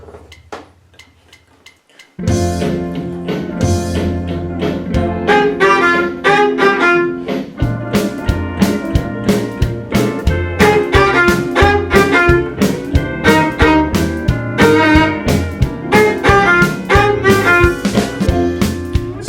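A bright bowed fiddle plays a quick repeating riff over a full band groove with steady beats, loud and upfront after a quiet opening.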